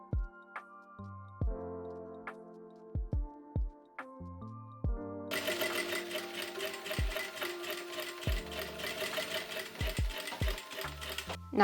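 A sewing machine stitches a skirt seam in short bursts, then a longer steady run of rapid mechanical clatter, punctuated by clicks and thumps.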